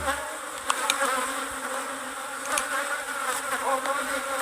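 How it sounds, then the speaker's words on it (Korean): Agitated Korean native honeybees buzz steadily at a hive damaged by wax moths, a dense close swarm drone with a few louder passes near the ear. "소충 피해를 보는 혈통은 벌들이 이렇게 사납죠, 사납습니다."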